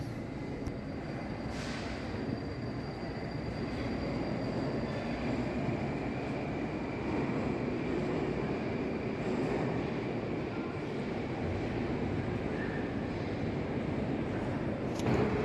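A Moscow metro train rumbles at Kuznetsky Most station on the Tagansko-Krasnopresnenskaya line, a steady loud roar of wheels and carriages with faint squeals, continuous and close with no talking.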